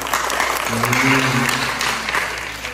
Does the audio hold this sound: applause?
yes